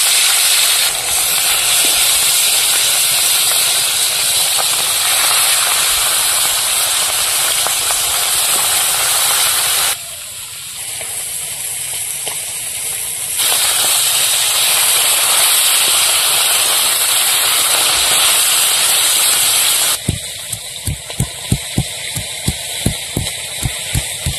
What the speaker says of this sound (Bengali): কড়াইতে তেল দিয়ে মাছগুলো ভেজে নেব।